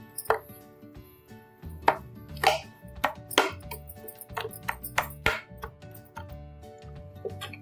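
A knife chops through a set slab of grated carrot sweet (gajar vadi) on a board in a home kitchen, sharp close knocks landing in an uneven rhythm, about a dozen cuts with short pauses between them.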